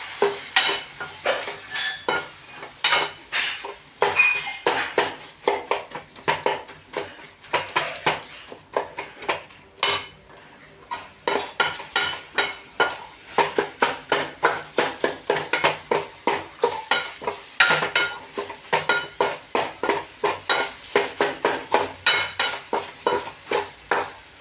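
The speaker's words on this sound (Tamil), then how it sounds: "ஒரு கிண்டு கிண்டி இறக்க வேண்டியதான்." Kootu with ridge gourd is stirred in a cooking pot, a spoon scraping and knocking against the metal in a fast, steady rhythm over a soft sizzle. The sound is close and continuous, with no voices.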